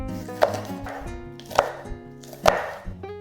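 A knife chops scallions on a cutting board: three sharp, evenly spaced thuds about a second apart, close and crisp over soft background music.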